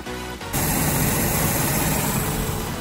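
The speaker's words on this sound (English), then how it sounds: "The AC clutch is now spinning and engaged" A Mazda engine running steadily with its AC compressor clutch spinning and engaged, a loud, even mechanical hum and whir that jumps up in level after a brief quieter start.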